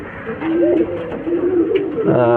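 Pigeons coo softly nearby in low, throaty repeated calls, with a few fluttery sounds and faint background noise.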